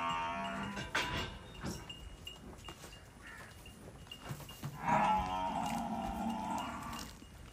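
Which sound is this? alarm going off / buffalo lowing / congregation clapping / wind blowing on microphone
buffalo lowing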